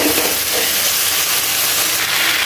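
Vegetables with turmeric, chili powder and salt sautéing in oil and water in a pan, giving a steady, close hiss and sizzle that holds unbroken throughout with no talking.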